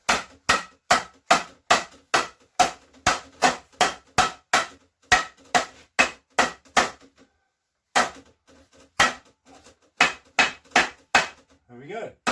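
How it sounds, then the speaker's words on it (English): Rubber mallet striking the wooden parts of a bodger's shave horse during assembly, a steady series of sharp, close knocks that pauses for about a second midway, then resumes at the same even pace. "let's get the rubber mallet"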